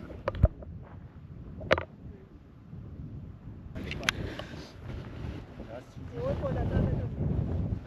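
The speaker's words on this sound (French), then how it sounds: "Il y a un peu de vent." Gusty wind rumbles and buffets the microphone outdoors, with a few sharp knocks and some faint noise in the background.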